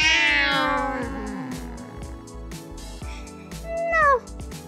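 Cartoonish kitten meows from a Toca Boca video game, several high, bending cries in a row over a soft repeating game music loop, with one louder meow near the end.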